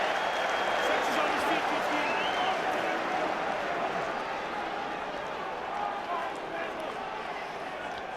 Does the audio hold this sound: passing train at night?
no